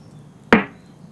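One punchy snare drum sample hit, crisp and close, lacking high end, with a short decaying tail and no other sounds around it.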